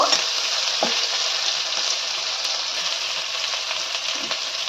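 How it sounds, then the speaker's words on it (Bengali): Onion stirs and fries in a pan with a loud, continuous hissing sizzle and a few brief utensil scrapes. "পেঁয়াজটা অল্প একটু কয়েক সেকেন্ড মতন একটু নাড়িয়ে নেব"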